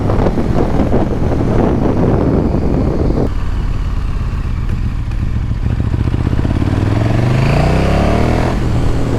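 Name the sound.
KTM 1290 Super Duke motorcycle engine accelerating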